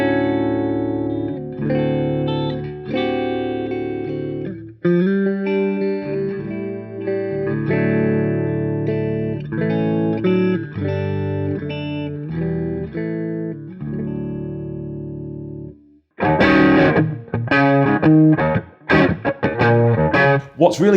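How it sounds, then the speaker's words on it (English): A digital Telecaster set to drop D tuning through software plays chords and notes with effects and reverb. After a short pause, it turns to a busier, brighter, more distorted passage. "it will convert the Telecaster into drop D tuning for me in the software."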